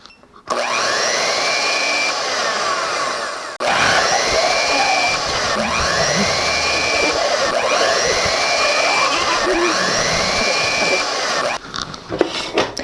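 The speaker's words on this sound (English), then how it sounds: "In that time, you can terrorize people with an electric whisk." An electric whisk runs loud and steady for about eleven seconds, with a short break near the start, while pumpkin pie is being made.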